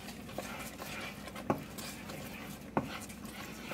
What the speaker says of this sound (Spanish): vamos a seguir revolviendo hasta que el queso se nos derrita